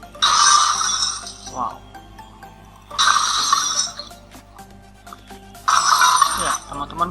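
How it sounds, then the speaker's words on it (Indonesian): Three short bright crashes of small breaking glass, evenly spaced, each followed by a brief tinkle, with a voice talking between them. "Small, seperti suara pecahan kaca gitu ya."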